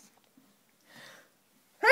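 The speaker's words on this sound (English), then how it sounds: "Mummy sneezed." A woman sneezes once, a short sharp burst at the end after a quiet stretch, preceded by a faint brief vocal sound in a calm indoor room.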